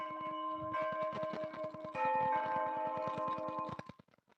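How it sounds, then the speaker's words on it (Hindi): A class bell rings with rapid repeated strikes and a sustained ringing tone, then cuts off abruptly near the end. "घंटी बोल गई"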